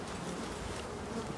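Dense, steady buzzing of many honey bees close by at the hive, a continuous drone with no voices.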